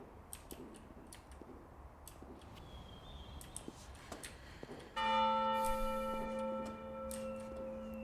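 A church bell in a video game tolls once, loud and sustained with a shimmering ring that decays slowly, after several seconds of faint ticking and clicks.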